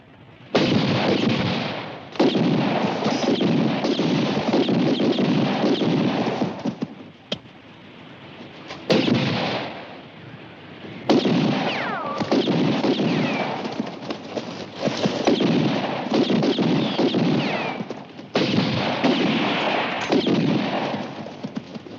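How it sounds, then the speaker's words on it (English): Sustained gunfire in a Western shootout, a dense, loud, continuous barrage of shots lasting most of the stretch with a few brief lulls, no voices over it. "Let them go on shooting. They'll soon run out of ammunition."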